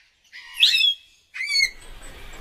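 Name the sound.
scarlet macaw parrot calls in rainforest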